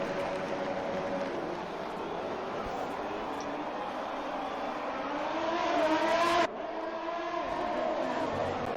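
Race cars roar off the grid at Monaco in a racing video game, a dense, steady wall of engine noise that swells and then drops sharply, with faint voices underneath.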